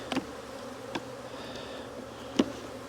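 Honeybees, including nurse bees on brood frames, buzz at a hive in a steady, soft drone, broken by a few sharp clicks close by.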